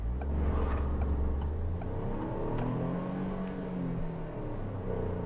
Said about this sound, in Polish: by Wam pokazać po prostu, jak ten samochód startuje z miejsca